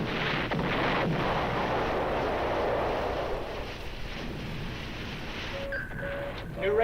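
Heavy naval gunfire from a warship in a 1958 submarine war film, a loud sustained rumbling blast that slowly fades, followed by faint electronic tones.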